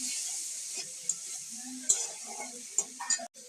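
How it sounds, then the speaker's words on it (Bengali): A spoon stirs potatoes and tomatoes with turmeric in a frying pan, giving scattered scraping taps and clinks over a faint sizzle, close and alone. "নাড়াচাড়া দিয়ে দিই।"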